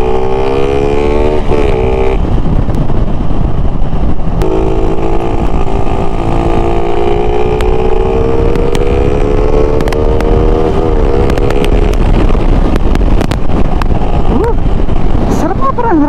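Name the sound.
two-stroke motorcycle riding at speed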